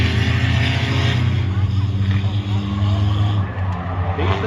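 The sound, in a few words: V6 race car squealing into a corner at Oyster Bay Speedway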